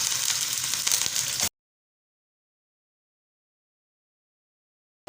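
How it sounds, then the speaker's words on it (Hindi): Beef pieces sizzle and fry in oil in a karahi, a loud, steady hiss that runs for about a second and a half and then cuts off into silence. "और ठंडे ऑयल में ही गोश्त को डालना है"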